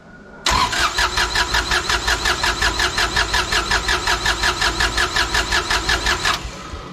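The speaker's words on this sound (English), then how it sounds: "first actual attempt at starting this thing" A long-sitting auction-bought unit sold as inoperable cranks over steadily in a loud, close, even rhythm of repeated turnover pulses for about six seconds without catching, then stops.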